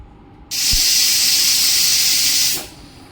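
A pressure cooker cooking Kathiyawadi masala khichdi lets out a loud, steady steam hiss that starts abruptly, holds for about two seconds, then tapers off, heard up close with no talking.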